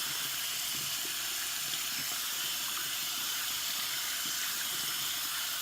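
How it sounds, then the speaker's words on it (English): Warm tap water runs steadily into a sink while hands are washed with antibacterial soap, a constant close hiss and splash without talk. "I have to wash my hands for about 2 minutes"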